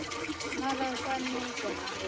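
Water pours steadily into a drum, a continuous close rushing and splashing that holds for the whole two seconds without a break.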